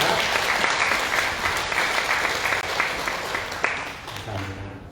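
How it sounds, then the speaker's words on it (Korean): A church congregation claps for the choir and ensemble at a Christmas Sunday service, a broad, sustained wash of applause that thins slightly toward the end. "지금 다시 한번 성가대와 앙상블팀에 감사의 박수를 드리겠습니다"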